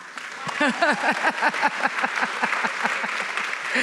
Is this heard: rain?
no